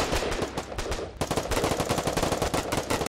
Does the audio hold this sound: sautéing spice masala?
no